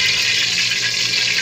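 Water sizzling in hot oil in a freshly washed cooking pan, a steady hissing crackle that holds at an even level for the whole moment, close and fairly loud with no talk.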